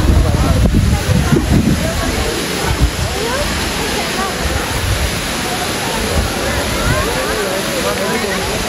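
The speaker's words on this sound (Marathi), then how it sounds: "धबधबा" A waterfall roars as steady, dense white noise throughout, with voices talking faintly beneath it.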